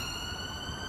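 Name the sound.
emergency vehicle siren passing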